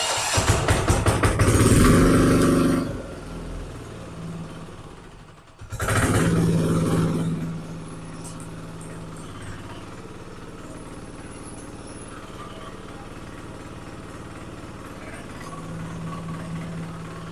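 A rotary tiller engine (a frez with an electric starter) runs close by, with two loud revving bursts early on before settling into a steady, moderately loud running drone.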